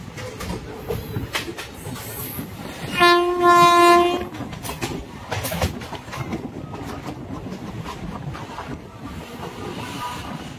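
A passenger train rumbles along the rails with steady rattling through Kolaghat toward Mecheda, and a loud horn blast sounds briefly partway through.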